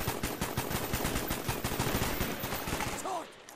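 Rapid automatic gunfire in the video game Call of Duty Black Ops, a dense, loud burst of machine-gun shots firing continuously for about three seconds before cutting off.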